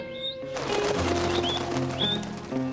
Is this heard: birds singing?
yes